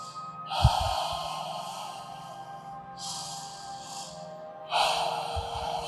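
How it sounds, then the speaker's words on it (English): Soft breaths drawn in and out through the nose during a yoga power flow. Three gentle, airy exhalations come at even intervals, each lasting about two seconds, close and quiet with a faint low thump at the start. "Softly breathing in and out the nose."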